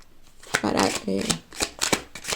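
A tarot deck, the Universal Goddess Tarot, is shuffled by hand in a few quick riffling bursts close up, with a person talking over it.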